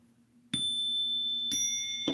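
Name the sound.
bell ding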